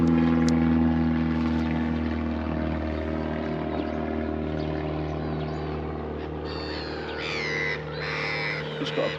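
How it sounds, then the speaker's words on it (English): A propeller airplane drones overhead above a lake during a fishing session, a steady tonal hum that holds throughout while birds call in the background near the end. "Just got a plane going over his head."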